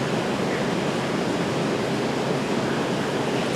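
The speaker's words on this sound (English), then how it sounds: "I was just watching the waves today, and they scare me" Ocean waves make a loud, continuous broadband rush of surf with no breaks or voices, filling the whole stretch evenly.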